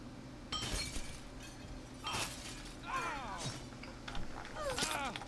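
Glass shattering in the video game Happy Wheels, several sharp crashes with tinkling shards spread across the span, fairly quiet.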